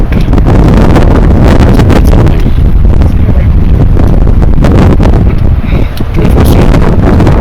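Strong gusts buffet the microphone on the Everest Base Camp trek, a loud, roaring, continuous rumble with sharp bursts of wind noise.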